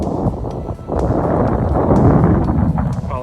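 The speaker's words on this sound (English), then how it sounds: "Apologize for the wind. It's a little breezy today." Breezy wind blasting an outdoor microphone during a walk, a loud continuous low rumble with gusting surges and a brief lull near the start, with no voices.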